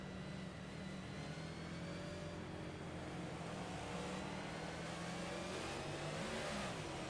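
Outlaw sprint car race at Phoenix with car number 7 on a restart, engine droning at a steady high pitch while revving and rising through gears, continuous and loud with no talk.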